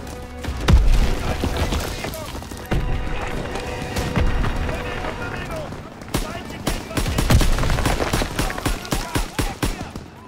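Bursts of gunfire in the WWII shooter Call of Duty: WWII, set in the Hürtgen Forest, with repeated loud shots and rapid volleys, heavy booms and a closing run of sharp evenly spaced shots.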